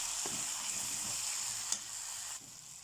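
Okra curry with chopped tomatoes and green chillies sizzles steadily in the pan, a close, even frying hiss with a few light stirring scrapes and a brief clink near the end, no talking.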